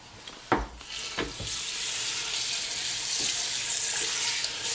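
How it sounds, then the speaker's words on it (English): Cold water pours steadily from a tap into a pot of chicken bones for stock, a constant hiss after a few clinks and knocks at the start. "Add some cold water."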